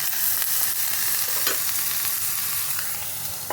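An egg fries on a pumpkin leaf in a wok with a little oil, giving a steady close sizzle broken by a few sharp stirring scrapes.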